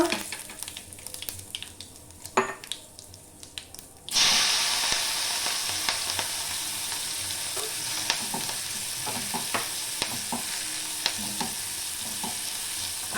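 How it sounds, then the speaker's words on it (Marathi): Mustard seeds and cumin tempering in hot oil for a vegetable dish, with hing, turmeric and curry leaves to follow. Faint clicks and clatter come first, then a loud, steady sizzle bursts in and holds close up with no talking. "फोडणीला राई आणि जिरं घातलेलं आहे"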